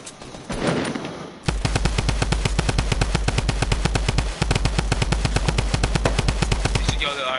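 In a Fortnite squad match, an automatic weapon opens up after a short lead-in and fires a long, evenly spaced stream of loud shots that continues almost unbroken to the end.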